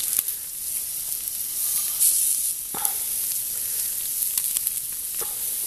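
Slices of bologna fry in a pan set over an open wood fire, giving a steady close sizzle and crackle with a few sharper pops and spits from the hot fat.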